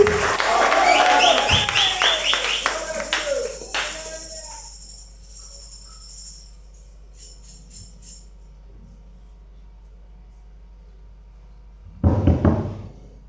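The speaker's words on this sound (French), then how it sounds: "Applaudissons pour le temps plus fort." Church congregation applauding during a French-language service, a dense burst of clapping for about four seconds fading into quiet, then a second short round of applause near the end.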